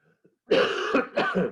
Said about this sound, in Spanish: Tengo tos.